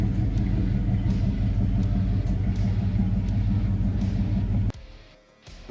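Peugeot 205 GTI engine rumbling steadily up close, a deep continuous drone that cuts off abruptly near the end into quieter low rumble.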